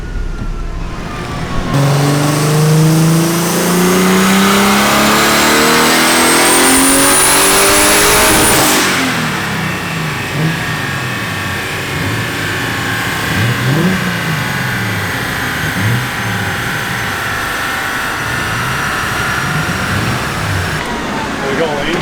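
A turbocharged BMW E36 with an S50 engine revs hard on a dyno until a ring land breaks from too much boost. The engine climbs loudly to a high scream and then cuts off abruptly, after which a rough, lumpy idle continues under voices.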